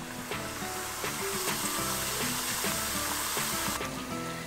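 Steady crackling sizzle of flat puri frying in hot oil, continuous and close, with faint clinks and light background tones underneath.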